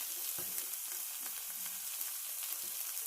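Cajun tofu scramble with mushrooms sizzles and fries in a pan, a steady bright crackle with occasional soft stirring knocks, close by and continuous.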